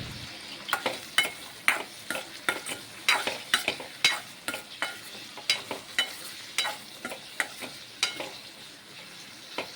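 Eggplant and okra sautéing in a pan, with a soft sizzle under repeated sharp scrapes and taps of a spoon stirring the vegetables at a steady, uneven rhythm, close and fairly loud, no talking.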